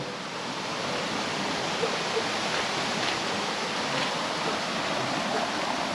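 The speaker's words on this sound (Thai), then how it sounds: "โอ้ฝั่งนู้นเป็นน้ำตกด้วย น้ำตก" Waterfall at a mountain viewpoint on Phu Thap Boek in Thailand, a steady broadband rushing roar of falling water that holds at an even, fairly loud level throughout with no voices.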